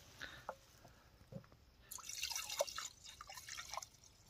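Diesel fuel, measured out to one litre, pours into the tank of a Swaraj 742 FE tractor: a few faint drips, then a soft, splashy trickle of liquid from about halfway through, quiet and close.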